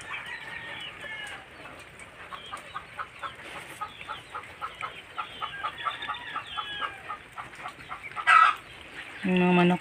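Chickens penned in an enclosure cluck repeatedly in a steady, busy chatter at moderate distance, with a few sharper squawks and a louder burst near the end.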